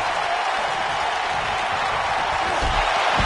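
An arena crowd cheers in WWE 2K19 wrestling, a steady loud roar of voices and applause that holds without a break.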